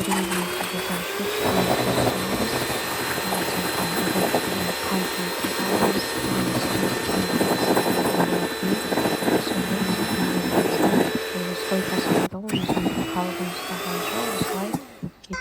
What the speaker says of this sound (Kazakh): блендердің көмегімен жасаймыз